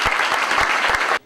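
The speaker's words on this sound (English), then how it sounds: "Let's give them a round of applause." A short burst of audience applause for teachers, administrators and school staff at a Torrance community event, with steady dense clapping that cuts off sharply after just over a second.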